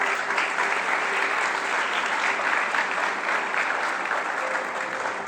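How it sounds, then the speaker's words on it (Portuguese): Congregation in a church service claps continuously in praise, a thick, steady wash of applause that holds at an even level for several seconds. "Dê uma salva de palmas ao Senhor Jesus"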